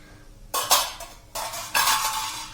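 A metal lid clanks off a pan of rested fasting appe batter, with two or three close, bright clattering bursts of metal on metal and no talk.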